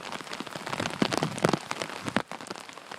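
Steady rain falls on surfaces outdoors on a wet day, a dense patter of drops close by with a few louder splashes, no voices.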